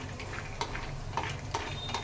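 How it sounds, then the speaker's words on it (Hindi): Peanuts frying in the same oil used for garlic, a steady close sizzle and bubble with occasional light clicks of a stirring spoon against the pan. "सारा लहसुन निकलने के बाद हम इसी तेल में अपनी पीनट्स को भी फ्राई कर लेंगे"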